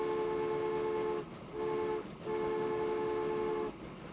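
A train runs in the video game Transport Fever 2, set in the 1850s. Its horn gives three long, steady tonal blasts separated by short gaps over a low running rumble, and no one talks.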